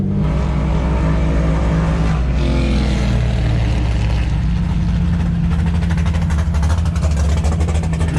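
Several powerful race car engines rumble steadily at idle nearby, a deep continuous drone with occasional louder revs toward the end.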